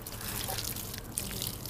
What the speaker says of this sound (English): We need to fill some water inside the balloon.